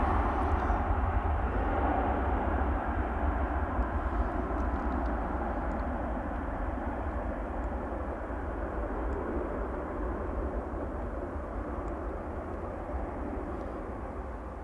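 A 37-year-old Jet2 Boeing 757 airliner arriving on its final flight, a steady broad engine roar that slowly fades over the whole stretch, with no talking.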